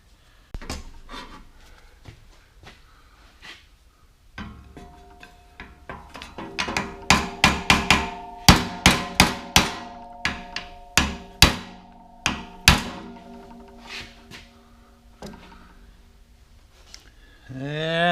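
A hammer taps on a steel fan shaft for a greenhouse fan, a series of light taps that build into about a dozen sharp, ringing metallic strikes, close and loud, then thin out.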